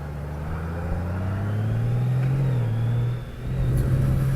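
A 2019 Honda Goldwing GL1800 motorcycle is ridden into corners, its engine a steady, close, low drone whose pitch rises and falls slightly, with a brief dip in power before it pulls again.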